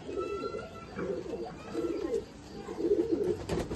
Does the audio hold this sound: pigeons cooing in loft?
yes